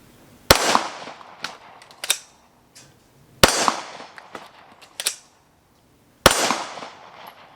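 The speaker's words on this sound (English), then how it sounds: "I still staged and pressed every shot" Pistol shots fired on a range during a combat reload drill: three loud, sharp reports spaced a few seconds apart, each followed by clicks and clanks of the magazine change between them.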